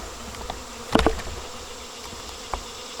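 Honeybees at a swarm trap during a fall swarm give a faint, steady insect hum close by, with one brief louder buzz as a bee passes near, then a quieter drone with a small flick.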